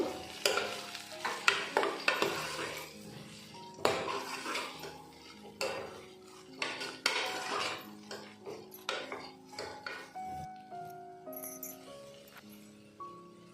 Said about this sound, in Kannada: ಈಗ ಈರುಳ್ಳಿ ಫ್ರೈ ಆದಮೇಲೆ ಇದಕ್ಕೆ ಮೊಳಕೆ ಕಾಳನ್ನು ಹಾಕ್ಕೊತಾ ಇದ್ದೀನಿ ಈಗ ಇದನ್ನು ಮಿಕ್ಸ್ ಮಾಡಬೇಕು